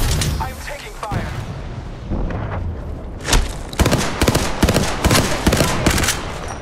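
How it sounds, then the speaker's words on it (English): Gunfire in Apex Legends crackles in rapid bursts, sparse at first and then dense and loud, with sharp repeated shots layered over a rumbling battle background. "I'm taking fire"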